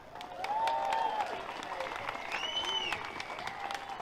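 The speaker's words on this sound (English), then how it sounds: "Please make a round of applause for Jonathan Tilt" Outdoor crowd applause at a 15-minute-city protest rally in Oxford, moderately distant and sustained, with a voice and tonal sounds audible over the clapping.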